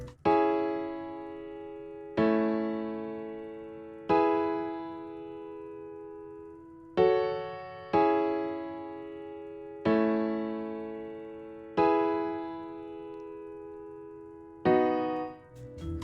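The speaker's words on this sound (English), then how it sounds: "the piano progression I just made" A basic, thin piano chord progression made in Logic Pro X, with eight sustained chords struck at an even, slow pace, each ringing and fading before the next, clear and alone.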